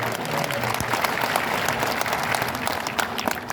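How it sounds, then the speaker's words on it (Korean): A church congregation bursts into sustained applause, a thick, even wash of many hands clapping together for several seconds. "하나님께 영광의 박수."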